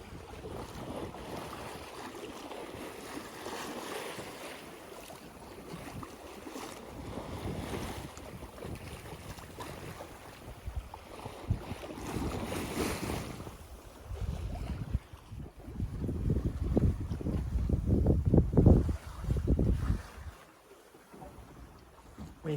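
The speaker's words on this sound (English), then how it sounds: "There's the sloshing of the water as we go by." Water sloshes against the hull of a small sailboat under way at four to five knots on a solo two-night passage off Mexico's Pacific coast, a steady wash with wind noise that swells into louder splashes near the end.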